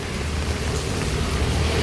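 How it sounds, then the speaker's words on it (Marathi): Heavy monsoon rain pouring down in Mumbai, a steady, dense broadband hiss of downpour that holds unchanged from start to finish, loud and close, with no voices. "मुंबईकरांना आधी पाऊस भेटला नाही, तर मग एवढा मागितला की आता पाऊसच पाऊस आहे"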